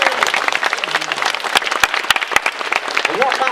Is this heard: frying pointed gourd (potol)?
no